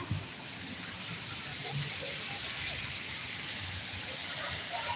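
Water fountains at a city water park in Columbus, Ohio splash and hiss in a continuous, even wash of spray, fairly faint and steady with no clear individual splashes.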